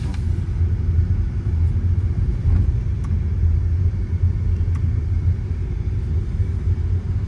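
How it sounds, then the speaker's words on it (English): Volkswagen Taigun GT Plus driving on the road, a steady low engine and road rumble heard from inside the cabin, with no distinct rev change audible during the downshift. "So I need to release the accelerator then shift, downshift."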